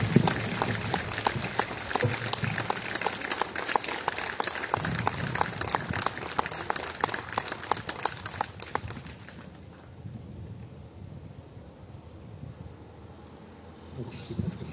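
Outdoor applause from a gathered crowd at a war memorial centenary ceremony, scattered dense clapping for about nine seconds that then fades, leaving quiet open-air background with faint voices.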